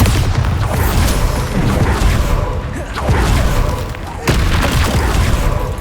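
Heavy booming explosions from the Bombarda spell in Hogwarts Legacy on PC, loud and dense with rumbling low end, several blasts rolling one after another amid game clamour.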